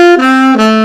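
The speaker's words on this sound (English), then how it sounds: "the ordinary triad sounds, as you probably would know, like this." An ordinary three-note triad chord is played, its notes ringing steadily for under a second with a slight shift partway through, loud and clear with no talking.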